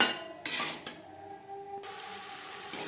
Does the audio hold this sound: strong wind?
no